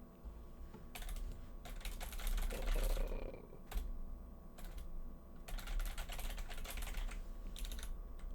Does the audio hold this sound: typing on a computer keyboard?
yes